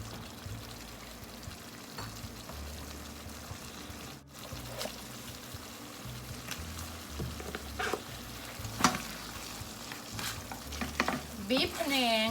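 Beef sizzles and fries in a hot pan while being stirred for a Thai panang curry, with a steady close crackle, scraping stirs and a few sharper clinks toward the end.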